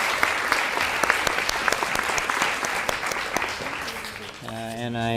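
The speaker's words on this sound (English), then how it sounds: "But please, a round of applause, especially if you know him," A crowd at a community foundation awards ceremony applauds warmly, with steady, dense clapping that fades out as a voice starts speaking over a microphone near the end.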